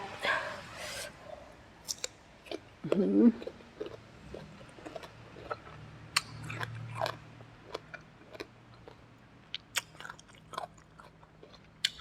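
Crunchy green mango dipped in sweet fish sauce being eaten with sharp, close crisp bites and scattered crunching chews, faint and intermittent against a quiet background.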